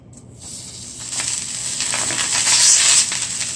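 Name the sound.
butter sizzling in a pan on the stove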